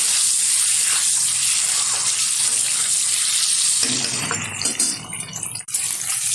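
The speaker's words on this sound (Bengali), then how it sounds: "ডিমটা ভালোভাবে ভেজে তুলে নেবো একটা পাত্রে" Peeled, slit boiled eggs fry in hot oil with a loud, steady sizzle that breaks into choppier bursts and a brief dip as the eggs are moved.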